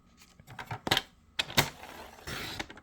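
Cardstock is cut to size in a run of short, sharp crisp snips and slicing strokes, close by and uneven in rhythm, with a louder rasping pass near the end.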